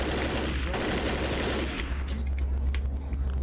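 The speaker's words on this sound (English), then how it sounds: "we just gotta go check this turret out" Mounted machine gun turret in the Left 4 Dead video game firing a continuous rapid stream of loud, close shots with heavy low rumble, no talking.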